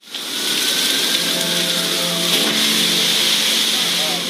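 Steady rain falls throughout, a dense broadband hiss of drops on surfaces holding at an even, close level with a faint low hum beneath and no voices.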